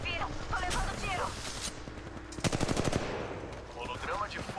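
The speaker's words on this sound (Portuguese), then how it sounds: "Estão atirando e me acertando." Automatic gunfire in Apex Legends Mobile strikes the player, a dense rapid burst of shots standing out amid game noise, with a voice talking over parts of it.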